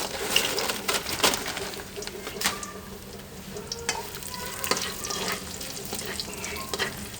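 Fried onion is tipped into sizzling masala for kofta curry, giving a crackling sizzle with stirring and scraping clinks in the pot, moderately loud and close, without speech.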